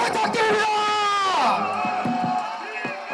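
A rally crowd in Incheon cheering and whooping loudly for a party chapter chairman, with mixed shouts and sustained voices filling the space throughout and no clear pause.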